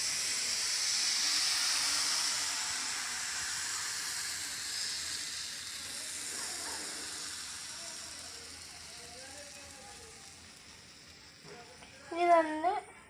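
Palappam batter is poured into a hot pan and swirled, giving a soft, continuous steamy hiss that slowly fades, with a brief burst of voice near the end.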